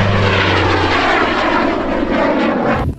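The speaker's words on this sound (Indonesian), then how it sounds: "Wow, lihat, ada pesawat akrobatik." An aerobatic airplane passes overhead, its engine and propeller drone loud and steady throughout before cutting off abruptly at the end, with no talk.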